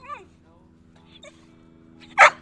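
A young female Vizsla puppy of about 3.5 months gives a whiny yip near the start, then a single sharp bark on command rings out close by near the end, with a low steady hum underneath.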